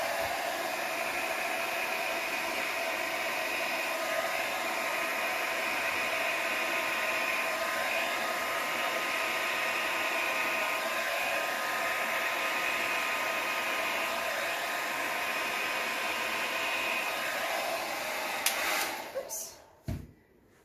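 A hair dryer on low blowing across a wet acrylic Dutch paint pour, a steady close whooshing hiss that runs almost unbroken before cutting off with a few clicks near the end.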